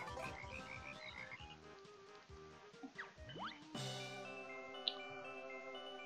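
Frogs croak in the Bubble Gloop Swamp level of Banjo-Kazooie, a busy chorus of ribbits and gurgly chirps over tonal swamp music, with a swooping effect midway and a louder sustained passage afterward.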